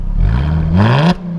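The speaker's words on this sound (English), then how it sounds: "go ahead and listen to this exhaust" A supercharged 2016 Jaguar F-Type engine revs sharply, its deep exhaust note climbing in pitch for about a second before cutting back to a low idle, loud and close.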